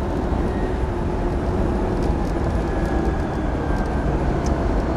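An electric Jaguar E-Type conversion pulls away on a road, giving a constant broad roar of tyres and wind with a faint rising motor whine underneath, heard steadily from inside with no speech.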